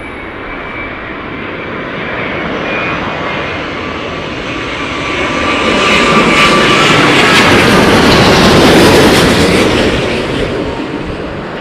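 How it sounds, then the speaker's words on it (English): Avianca Boeing 787 from Bogota landing at Heathrow in gusty storm conditions, a loud, continuous jet engine roar that swells as the airliner passes close, then gradually fades. "Is this the Avianca 787 from Bogota? This should make a decent mess of the runway,"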